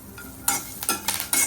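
Food being stirred in a hot frying pan, a few distinct scraping strokes spaced about a third of a second apart over a steady oil sizzle, close and alone with no talk.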